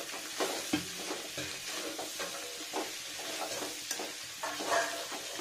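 Rice stirred with a little sugar in a pan as it browns, close scraping and rustling strokes over a constant low sizzle.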